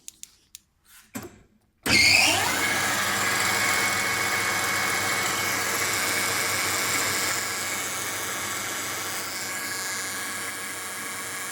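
After a few clicks, a small engine with a 12V DC CDI ignition using a Hall-effect trigger catches and runs with a loud, steady drone, easing slightly lower partway through and holding there.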